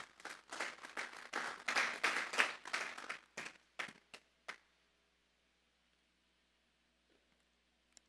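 A church congregation applauds during a Spanish-language sermon, with loud, brisk clapping that thins to a few scattered claps and stops about halfway, leaving near silence.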